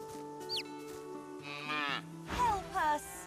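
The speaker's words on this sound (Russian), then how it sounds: "Вот тут эти коровы, короче." Cows mooing several times in the video game Divinity: Original Sin 2, over a soft musical background, with overlapping low, drawn-out calls and a higher bleating moo near the end.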